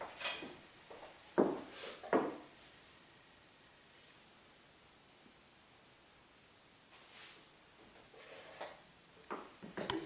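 Salt being stirred into guacamole, heard as a few clustered scraping and tapping bursts of a utensil against a bowl, a quiet lull, then more scrapes toward the end, all close and fairly faint.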